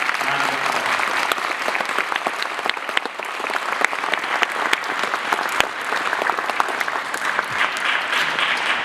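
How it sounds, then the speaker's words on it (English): Dense, steady applause from a concert audience honoring graduating seniors of a high school spring concert band, sustained crackling claps filling the whole stretch with faint crowd murmur beneath. "So let's give these seniors a big,"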